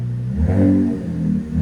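A 2026 RAM 1500 pickup with the 3.0L Hurricane inline-six and a Flowmaster Super 10 exhaust revs once under throttle, a deep, loud exhaust note swelling and then settling back to a steady idle rumble, close by.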